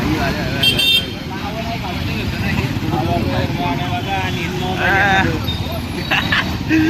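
Road traffic with cars driving past and short car horn toots sounding a few times, near and fairly loud, while people talk over it.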